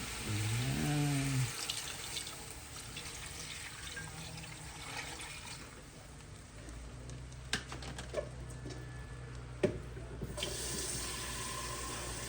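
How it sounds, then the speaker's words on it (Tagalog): Tap water runs into a cooking pot for fish sinigang in a home kitchen, a steady hissing stream with a few clinks and knocks of the pot near the end before the flow stops. "Saka po natin lalagyan ng tubig."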